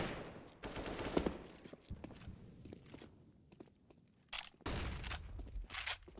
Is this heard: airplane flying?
no